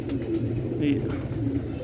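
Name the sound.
pigeon held in hand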